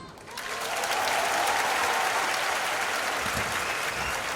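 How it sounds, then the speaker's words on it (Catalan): A theatre audience at a comedy show breaks into applause, swelling quickly from quiet into sustained, loud, even clapping that carries on to the end. "Només faltaria que ara l'aplaudíssiu."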